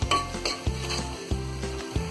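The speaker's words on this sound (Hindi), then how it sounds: "इन सारी चीजों को अच्छी तरह हम मिक्स कर देंगे" Keema mixture seasoned with coriander powder and salt is stirred in a hot frying pan: a continuous sizzle broken by several rhythmic spatula scrapes and knocks against the pan, up close.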